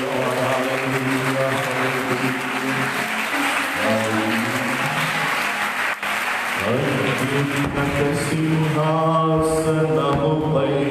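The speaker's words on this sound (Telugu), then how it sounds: "చప్పట్లు కొట్టి బిగ్గరగా ప్రభువును స్తుతించుదాం" A church congregation at a live Sunday worship service claps hands steadily in praise, a dense continuous applause mixed with singing or music throughout.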